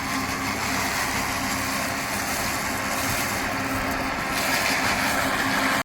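A tractor engine runs steadily on a farm during cotton cutting for homemade compost, a constant mid-pitched mechanical drone with no pauses, close and fairly loud throughout.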